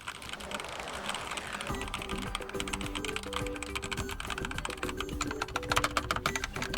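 Typing on an Endorfy Thock 75 wireless keyboard gives a fast, steady stream of close, clacky keystrokes with a cheap, plasticky tone and no talking.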